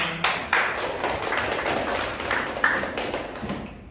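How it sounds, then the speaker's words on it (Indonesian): A short round of applause for two groups in a classroom-style session, scattered hand claps with a few sharper taps, moderately near and fading quickly. "Kita kasih aplaus dulu untuk 2 kelompok ini"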